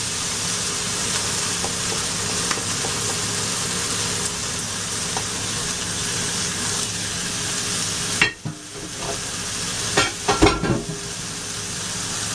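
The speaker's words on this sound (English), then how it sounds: "Now we're going to roast this masala for about 5 minutes." Masala spices with cumin seed roasting in a pan for a bone broth soup, a steady loud sizzle and frying hiss throughout, broken near the end by a few stirring scrapes and clatters close by.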